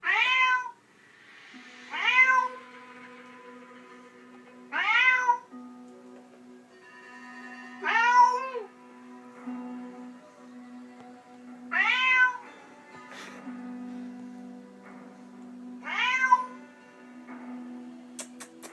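A cartoon cat in the South Park: The Stick of Truth video game meows six times at regular intervals, each call clear and close, with a faint ticking and low hum between them.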